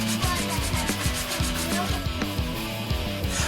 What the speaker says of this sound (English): I want to hit it with a sanding sponge